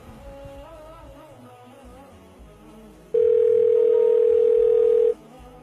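A steady telephone tone switches on and holds loud and unbroken for about two seconds while a call is placed from another number, following quieter indoor background sound.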